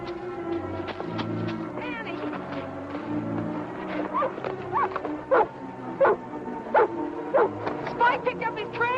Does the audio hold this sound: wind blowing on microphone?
no